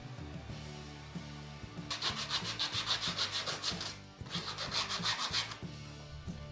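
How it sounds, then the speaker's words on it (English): Rhythmic sandpaper strokes rasp back and forth across wood in two quick bursts, with a short pause between them, close and fairly steady. "I'm going to sand everything down at this point"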